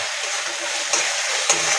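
Dry spices (ground coriander, cumin, chili powder, turmeric and salt) sizzle steadily in hot oil in a pan while being stirred, a close, continuous hiss with a couple of brief scraping knocks and no talk.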